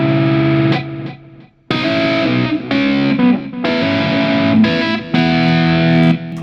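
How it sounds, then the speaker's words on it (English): Distorted electric guitar riff played through an amp simulator, with chunky sustained chords broken by short gaps, loud and close, no voices. "Let's put some distortion on it to see how that sounds."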